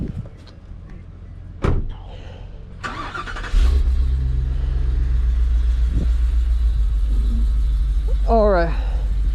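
A vehicle engine starts with a thud and settles into a loud, steady low idle rumble, preparing to pull a U-Haul truck stuck in a backyard, with a few faint knocks and a brief whistle-like sound near the end.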